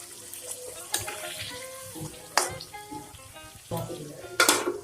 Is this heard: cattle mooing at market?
no